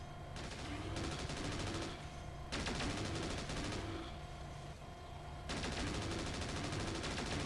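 Mech weapons in MechWarrior 4: Mercenaries fire in loud, dense, sustained bursts that stop and restart in long blocks, with rumbling impacts underneath.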